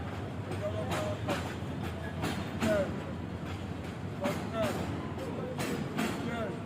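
A very large oil tanker freight train rolls past in Bangladesh, a steady heavy rumble broken by rhythmic wheel clatter and knocks, with a voice faintly audible at times.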